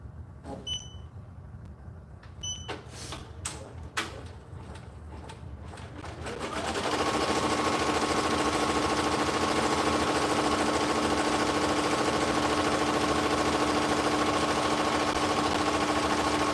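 A sewing machine starts up after some quiet tapping and clicks, then runs steadily and loudly at a constant whirring pace for about ten seconds with no pauses.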